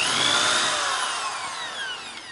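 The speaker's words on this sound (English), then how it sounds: "So I'm gonna drill that hole and then just bolt it in." Power drill boring a hole for a bracket bolt while mounting a mini split air conditioner on the back of a school bus, a loud, steady high whine that slowly drops in pitch over a couple of seconds, close up with no talking.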